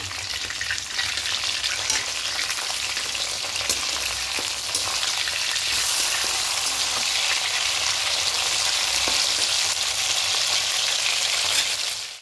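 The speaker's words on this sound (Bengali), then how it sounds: "এই মাছগুলো একটু হালকা করে দিতে ভেজে নেব" Pieces of pomfret fish fry in hot oil with a loud, steady, dense sizzle that holds unbroken from start to finish, close up and without any voices.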